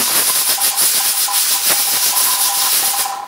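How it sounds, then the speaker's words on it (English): A weight-style pressure canner processing homemade roasted tomato soup vents excess steam in a loud, continuous close hiss, pulsing slightly as the weight jiggles, with no one talking. "the weight gauge will spin around and expel that extra steam"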